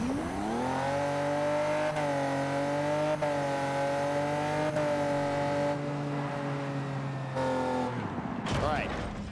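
Race car engine in a racing video game through a left-hand corner, a loud sustained drone holding pitch with slight wavers before dropping off near the end as the throttle lifts; a voice speaks over it.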